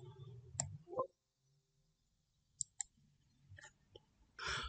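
A computer mouse clicks a few times during file conversion on a PC, sharp close taps scattered among quiet background noise with faint rustling.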